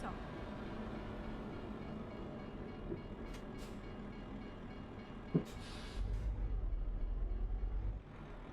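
A train rumbles past in Euro Truck Simulator 2, a steady low roll with a brief clatter and a louder rhythmic wheel rumble near the end, heard from the cab with speech over it.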